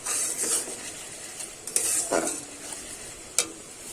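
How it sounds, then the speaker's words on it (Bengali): Ginger garlic paste frying in a pan for Bengali-style chicken kosha, with a soft sizzle under several sharp spoon scrapes and stirring clinks against the pan, close and without speech. "আদা রসুনটা কিন্তু আমি কিছুক্ষণ নেড়ে চেড়ে ভাজা ভাজা করে নিয়েছি"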